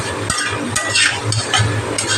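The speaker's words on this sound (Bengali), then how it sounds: "ঢাকা খুলে এবার আবার একটু নেড়ে দিচ্ছি।" Malancha greens cooking in a pan with garlic, stirred in short scraping strokes over a low sizzle, close and fairly loud, in uneven bursts with no voices.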